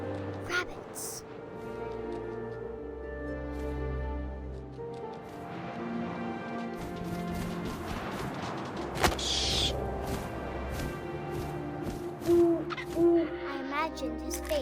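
An owl hoots in the game What Remains of Edith Finch, with repeated low calls over wind and ambient game sounds while a narrator speaks throughout.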